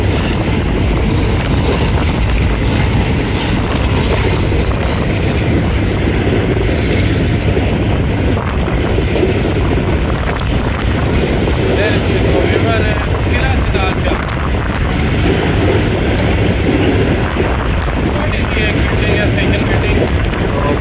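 Aboard the Karakoram Express 41 Up between Faisalabad and Lahore, passing Qila Sattar Shah, a loud, constant rail rumble roars with wind buffeting and clattering wheels, unbroken throughout.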